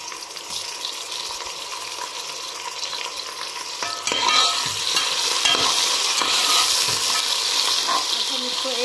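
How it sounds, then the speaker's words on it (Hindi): Ginger garlic paste fries with golden-brown onions in a pan, a steady sizzle with stirring scrapes that grow louder partway through, no voices. "अब हम इसको 1-2 सेकंड के लिए फ्राई करेंगे अनियन के साथ।"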